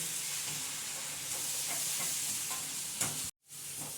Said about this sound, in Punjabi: ਸਾਡੇ ਪਿਆਜ਼ ਇੱਦਾਂ ਥੋੜੇ ਜਿਹਾ ਆਪਾਂ ਭੁੰਨ ਲੈਣੇ ਆ ਠੀਕ ਹੈ ਥੋੜੇ ਜਿਹਾ ਵਧੀਆ ਜਿਹਾ ਫਰਾਈ ਕਰ ਲਿਓ